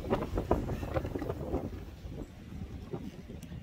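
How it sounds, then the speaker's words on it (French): Strong wind gusts buffeting the microphone at a Canadian ski resort, rough rumbling bursts that are loudest at the start, then ease into a lower, steadier roar. "il y a des rafales de vent de ouf."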